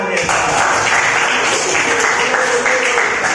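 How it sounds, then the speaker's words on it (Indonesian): Classroom applause from students during a teaching session, a loud, steady stretch of clapping with voices mixed in. "masih tepuk tangan"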